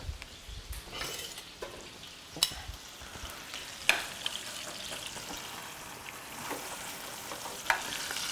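Steak frying in a pan gives a soft, low-level sizzle with occasional sharp utensil clicks and stirring scrapes, fairly quiet and without talk.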